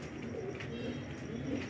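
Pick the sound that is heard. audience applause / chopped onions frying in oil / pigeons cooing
pigeons cooing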